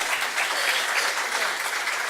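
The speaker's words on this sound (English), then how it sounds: "Don't clap for me, clap for Alonzo." Steady, dense applause from an audience at an advanced Python programming talk, continuous clapping at an even level throughout with no pause.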